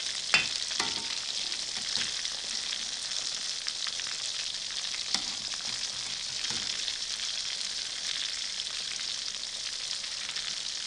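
Chicken pieces frying in oil in a karahi for Peshawari street-style charsi karahi, a steady, dense sizzle running throughout at close range, with a few faint clinks and stirring sounds and no talking.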